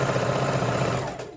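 A sewing machine back-stitches and runs forward along a quilt's half square triangle, giving a steady, fast mechanical whir that fades slightly at the end.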